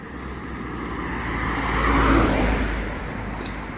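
Car traffic runs along the Old City walls of Jerusalem, a low rumbling roar that swells as a vehicle passes close by and then fades.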